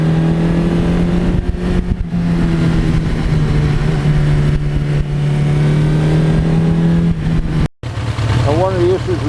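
A 1982 Suzuki GS1100E motorcycle rides along with a loud, steady engine drone and constant wind rush, broken by a brief dropout near the end before the engine note resumes and shifts.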